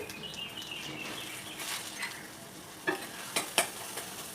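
Gongura leaf curry is mashed and stirred in a pan, a soft steady sizzle with scattered scrapes building to several sharper knocks near the end, and faint birdsong in the background.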